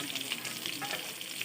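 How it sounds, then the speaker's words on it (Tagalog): Onions sautéing in a pan make a short burst of soft, steady sizzling with light crackles, quiet and close, with no talking. "Lagyan natin ng sibuyas."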